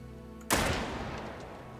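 A single loud rifle shot rings out in a hunting video game, a sharp crack at mid-clip followed by a long rolling echo that decays slowly across the rest of the clip.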